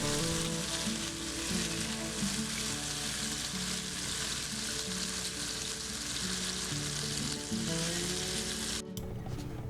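Walleye fillets sizzle and fry steadily in a hot frying pan, a continuous close crackling hiss with no talking, cut by a brief break near the end.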